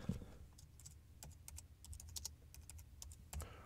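Quiet clicking of computer keyboard keys, typed in an irregular run of light taps for a few seconds with faint room hum underneath.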